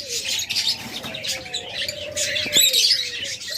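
Pet birds in a cage chirp and tweet in quick, bright bursts over soft background noise, fairly close and continuous.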